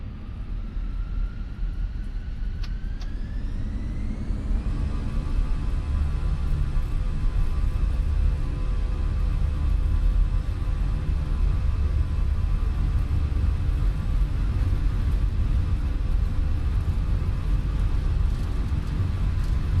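Eurowings Airbus A320-200 in a flight simulator rolling down a runway for takeoff, engines spooling up to a steady loud roar over a low rumble and continuing unbroken.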